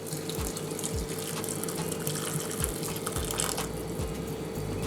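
Water pours steadily into a pot of seasoned pork for brown stew, a continuous splashing rush with faint clinks, close by and fairly loud, no voices.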